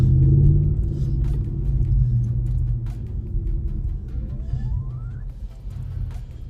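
A vehicle on winter all-terrain tires reverses in snow, a steady low engine rumble close by with a faint rising whine near the end.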